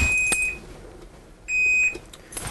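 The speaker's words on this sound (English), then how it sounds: "there's my 8 minute timer" A kitchen timer set for eight minutes goes off during pastry cream cooking with two bright, high electronic beep bursts about a second apart, loud and close over quiet kitchen background.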